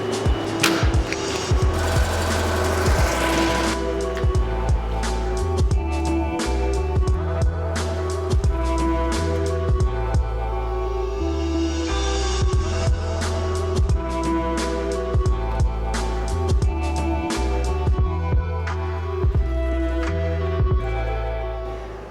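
A home embroidery machine stitches a dense satin-stitch design in a hoop, giving a loud, continuous mechanical whirr full of rapid needle knocks. It runs steadily for about twenty seconds with no talking.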